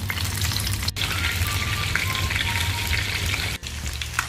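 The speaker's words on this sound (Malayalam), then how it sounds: "ഞാനിപ്പോ ഒരു പാൻ വെച്ചിട്ടുണ്ട്, വെളിച്ചെണ്ണ തന്നെ എടുത്തിട്ടുള്ളത്. ഇനി നമുക്ക് ഓരോന്നും ഫ്രൈ ചെയ്തെടുക്കാം" Chicken pieces frying in coconut oil in a pan, a loud dense sizzle and crackle that continues throughout, close up, with two brief breaks and no speech.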